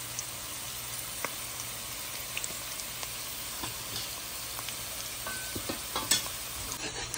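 Spices sizzling in hot oil with onions as a spoon scrapes and stirs the pan, turmeric, chili and coriander going in for a radish and prawn curry; a steady close hiss with scattered clicks of the utensil, no talking.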